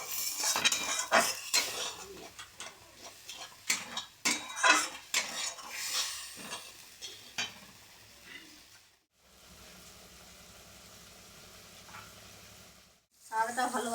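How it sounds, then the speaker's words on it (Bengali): Spices fry in a pan with spice-washed water while a utensil clatters and scrapes in rapid irregular strokes. A softer steady sizzle follows, then the stirring briefly resumes. "এবার দেবো আমি মশলা ধোয়া জল, আর আমি ভালো করে কষে নেব।"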